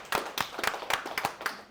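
A handful of people clap at a Cushman & Wakefield webinar, short irregular claps heard close and fairly faint over under two seconds.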